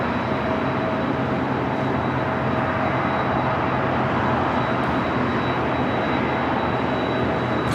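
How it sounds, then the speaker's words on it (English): A Latam Boeing 767-300ER airliner taxis at LAX, heard as a continuous, fairly loud broadband jet roar with a steady high whine, unbroken across the whole stretch and with no talk. "You probably hear that 767-300ER with Latam just on the other side of this Philippine at 777"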